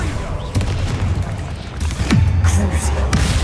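A fire spell cast in a Harry Potter video game: a sudden whooshing burst with a boom near the two-second mark, set against steady game ambience and a few earlier impacts.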